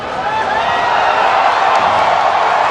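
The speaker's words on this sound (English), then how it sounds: "The crowd has come alive." Dense, loud roar of a boxing arena crowd cheering and whooping at a Pacquiao vs. Matthysse fight, a steady wash of many voices sustained throughout.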